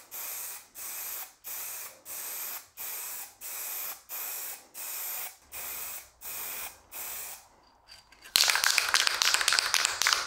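Aerosol sanding sealer sprays in a regular series of about nine short, close hissing bursts onto a flat table surface, followed by a louder continuous spray, with no voices.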